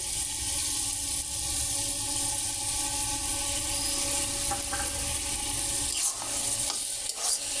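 Soybean curry being stirred in a pan after ground cumin and cardamom go in, a steady close scraping and sizzling texture that runs throughout, with a couple of sharper clinks near the end.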